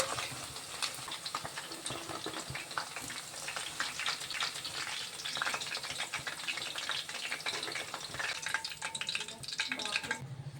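Chicken 65 pieces deep-frying in hot oil until golden, giving a steady, dense crackling sizzle with busy popping throughout, close and fairly loud.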